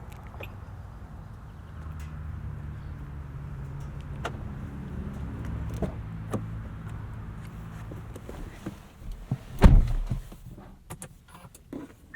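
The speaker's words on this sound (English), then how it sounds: "Audi still has my favorite lock noise." A 2025 Audi S3's door lock actuates with a single sharp, solid clunk, heard close up after a stretch of low, steady background rumble.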